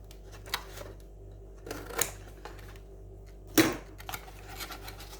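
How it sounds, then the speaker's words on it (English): Waste cardboard being cut down for junk journal tags, a few separate sharp cuts and scrapes spaced out across a quiet background, close by and without speech. "So I'm just going to cut this down."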